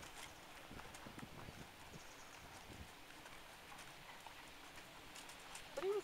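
A horse trotting in a riding session, soft rhythmic hoof clip-clops faint and somewhat distant over low ambient noise, with a brief louder sound near the end.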